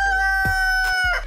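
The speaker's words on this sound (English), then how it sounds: "Yes, child, the cock-a-doodle-doo." A rooster crows once in a single loud, close call with a steady tonal pitch, followed by a brief squawk near the end, with no talk over it.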